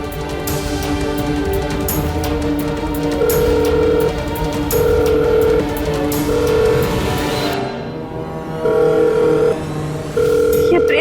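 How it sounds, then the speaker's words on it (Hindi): Ringback tone of an outgoing phone call left unanswered, steady repeating ring bursts with a continuous tonal hum underneath, fairly loud and close, with no talking. "फोन क्यों नहीं उठा रहा है?"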